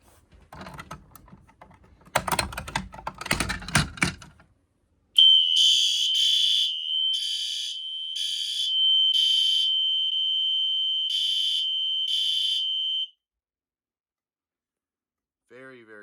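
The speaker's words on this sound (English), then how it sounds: "we are going to go ahead and pull the pull stations now" A fire alarm on an MS-10UD panel, set off by pulling a pull station during a system test, blares a loud steady high tone for about eight seconds. It pulses slightly and sounds close. Clicking and handling noises come before it, and it then stops abruptly.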